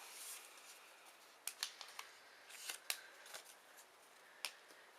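Scissors snipping through felt in a quiet room, a run of soft, crisp cuts spaced irregularly, close and fairly faint.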